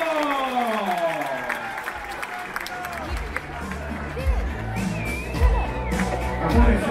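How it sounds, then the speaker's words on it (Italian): Audience applause at a crew talent show aboard the MSC Opera cruise ship, a continuous patter of clapping with some cheering and crowd chatter, while a voice speaks over it and low thumps break through toward the end. "forte l'applauso"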